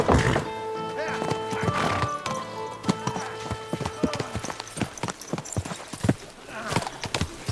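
Hoofbeats of a horse clip-clopping along with a whinny in the medieval game Kingdom Come: Deliverance 2, the rhythmic thuds loud and close beside music, while voices talk over them.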